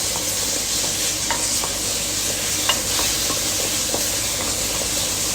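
A piece of ripe tomato cooks in an oily pan for chicken caldereta, giving a steady close hiss and sizzle with occasional light stirring clicks, no voices.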